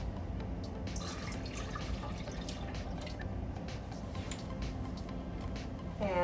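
Water pouring into a measuring cup in a home kitchen, a steady trickling splash with faint drips, fairly quiet and unbroken throughout.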